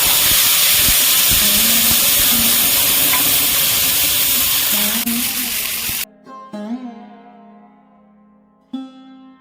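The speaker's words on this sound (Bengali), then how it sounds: "আদা কাঁচা লঙ্কা টমেটো তেলের মধ্যে দিয়ে আমি ভালো করে ভাজা ভাজা করে নিয়েছি" Ginger paste, green chillies and tomato frying in hot oil for navratan korma, a loud steady sizzle that cuts out suddenly, followed by faint scraping and a few clinks of a utensil.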